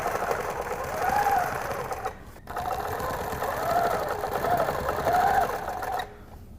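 A sewing machine stitching a quilt guided by a quilting template ruler, running in steady whirring bursts with a brief pause between runs, close and clear while someone speaks.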